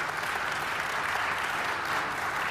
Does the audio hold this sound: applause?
yes